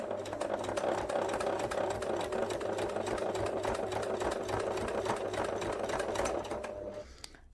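A sewing machine runs steadily for about seven seconds stitching a flat cap for a memory bear, sewing off the end of a dart with a few reverse stitches, loud and close before cutting off abruptly.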